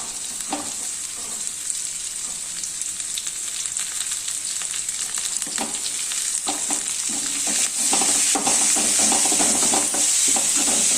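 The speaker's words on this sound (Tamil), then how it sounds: "கருவேப்பிலை பொரிஞ்சிச்சு இப்போ பொடியாக நறுக்கின பெரிய வெங்காயத்தை போட்டுக்கலாம்" Steady, loud sizzling of chopped onions frying in hot oil with curry leaves, scattered pops and crackles growing slightly louder toward the end.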